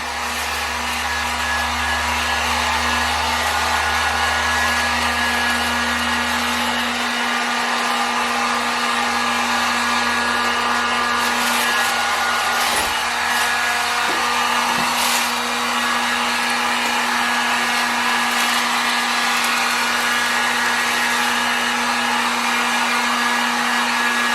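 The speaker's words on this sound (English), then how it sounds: "I'm using a heating gun on the lowest settings that I have." A heat gun runs on its lowest setting for a DIY candy project, giving a steady, loud whooshing blow with a constant motor hum that holds unchanged from start to finish, with no voices.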